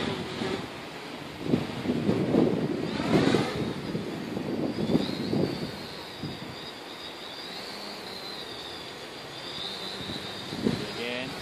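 A Hobby King Q450 V3 quadcopter climbs at full throttle in a park, its motors giving a high whine that rises and falls over wind noise, with a person talking near the microphone.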